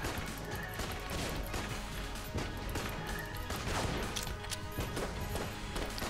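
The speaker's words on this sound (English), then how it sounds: "why is there a constant explosion? But it's because he's hitting the barrels." Barrels blow up over and over in the video game Enter the Gungeon, dense crashing blasts and gunfire packed into a loud, continuous barrage without pauses, no speech over it.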